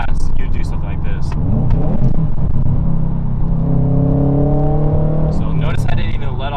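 Two sharp throttle blips rise over a car engine's steady rumble during a fast, rev-matched shift from third to fourth, with the clutch held in and someone talking over the engine throughout.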